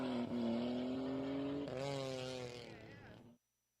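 A Nissan 300Z race car drives down the track with a loud, rising engine drone and a gear change partway through, then cuts off abruptly.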